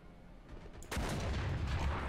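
A War Thunder tank, the British FV4202, fires its cannon in one heavy, booming shot that rolls into a sustained rumbling blast, loud and close with no talk over it.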